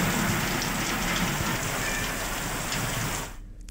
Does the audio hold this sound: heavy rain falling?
yes